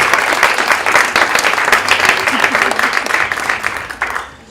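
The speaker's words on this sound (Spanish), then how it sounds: "que se merece pues todo el aplauso de los que estamos aquí" An audience at a human rights event gives warm, dense applause, steady and close with faint voices underneath, tapering off at the end.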